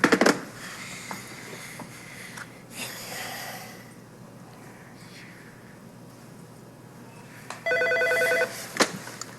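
A telephone rings in an indoor setting on a call to the Château-Frontenac in Québec, one short burst of ringing near the end among faint rustles and breathing.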